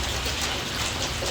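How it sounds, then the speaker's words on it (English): Heavy rain pours down outside a gym, a dense, steady hiss that stays loud and even throughout, with no voices. "And it's pouring down."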